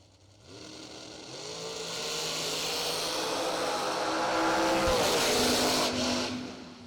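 A dragster launches down a drag strip at a big-money race event, the engine note climbing and rising into a loud, sustained roar that peaks and then fades as the car pulls away, with no talk.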